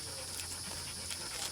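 Several dogs pant heavily and rhythmically close by indoors, a steady quick breathy huffing over a constant background hum.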